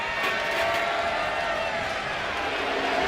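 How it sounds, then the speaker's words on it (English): A dense, continuous roar of an arena crowd cheering fills a WWE 2K25 wrestling match between Rhea Ripley and Trish Stratus, steady and loud for a few seconds with no clear break. "Trish getting the crowd behind her now."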